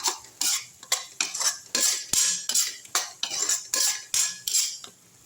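Sesame oil and a Tamil-style karonda and peanut pickle mixture being stirred and sautéed in a pan, a metal spoon scraping and clinking against the vessel in steady repeated strokes, close and fairly loud, with no talk.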